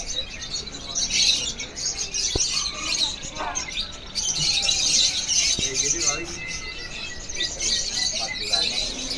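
Caged canaries, including AFS and loper types, sing with dense, rapid high chirps and trills, continuous throughout with a few brief clicks and a voice in the background.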